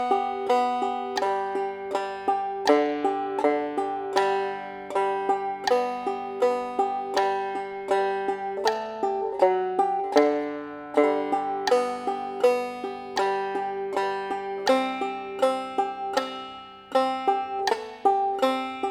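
A stringed instrument, likely a banjo, plays a steady melody in a ditty-ditty pattern, each downstroke followed by a thumb stroke, giving a crisp staccato, machine-gun rhythm of bright plucked notes, close and alone.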